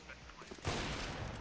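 Gunfire in the video game Counter-Strike: Global Offensive, a sudden loud burst of shots that lands as a headshot, with dense firing noise filling the second half after a quieter stretch.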